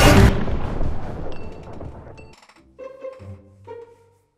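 A single sharp gunshot cracks out in a Superman and Batman film scene, its loud blast decaying over about two seconds before faint ringing tones take over.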